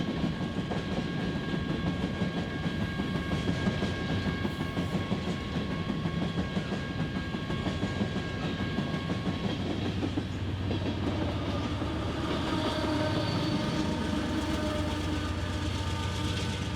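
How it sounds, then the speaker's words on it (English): A BNSF coal train clatters over a rail switch near a siding in Missouri. Wheels click and bang in steady rhythm under a constant rolling rumble and faint high squeal, moderately distant, with no voices. "The end of the train clatters over the east switch leading to Republic siding"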